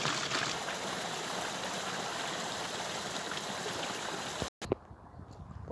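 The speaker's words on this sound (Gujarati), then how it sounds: "આ છે પાણી પડે છે, વાવનું પાણી છે, ઊંડી છે." Water falls into a deep stepwell tank as a continuous, even rushing stream for several seconds, then cuts off abruptly into a quieter stretch, with no voices.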